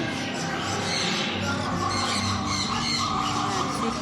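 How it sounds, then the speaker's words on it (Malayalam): Birds and parrots squawk in a constant shrill chorus at a festival fair, close and loud, over a busy background din. "കിളികളും തത്തകളും"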